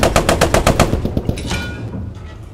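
A rapid burst of machine-gun fire from the Post Scriptum video game, a fast even string of loud close shots that thins into scattered distant pops and rumble.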